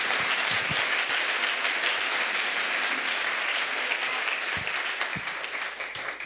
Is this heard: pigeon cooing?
no